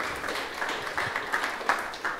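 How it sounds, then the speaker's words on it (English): An audience at a networking hackathon applauds the team members after a presentation, a moderately loud continuous patter of many clapping hands with a few sharper claps standing out. "Give yourself an applause."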